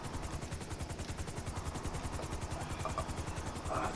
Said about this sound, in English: Is your own private helicopter?